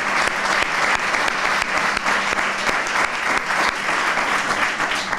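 Sustained applause from an audience at a bullfighting talk honouring a dynasty of bullfighters, dense steady clapping filling the room throughout with no speech over it.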